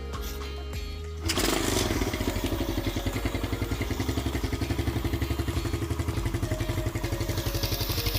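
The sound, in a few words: motorcycle being kick-started, engine running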